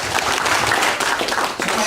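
A seminar audience claps together at a motivational training session, a dense, steady patter of hands that stays loud and close for the whole short stretch.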